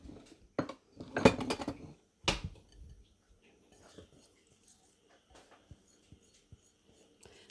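A spatula mixes peanut butter fudge with confectioner's sugar, salt and vanilla in a bowl: a few loud knocks and scrapes of utensil against the dish early on, then quieter scattered taps and soft stirring.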